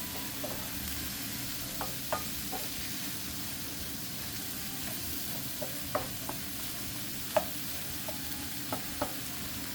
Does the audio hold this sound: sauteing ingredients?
yes